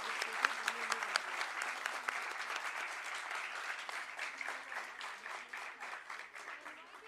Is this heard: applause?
yes